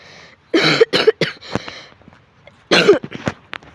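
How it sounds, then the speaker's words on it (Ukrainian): A person recovering from an illness coughs close by: a few harsh coughs in quick succession, a pause, then one more hacking cough. "Я нещодавно хворів, так що я все ще відкашлююся."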